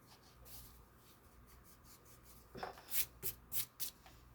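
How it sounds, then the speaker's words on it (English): A pencil eraser rubbing out lines on a coloured-pencil drawing of an antlered figure, a few quick, close scrubbing strokes in a short burst after a quiet pause, faint and soft, with no voices. "I just don't want heavy line on there, so I'm just gonna erase that"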